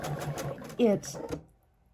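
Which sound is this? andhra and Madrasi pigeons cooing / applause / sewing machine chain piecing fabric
sewing machine chain piecing fabric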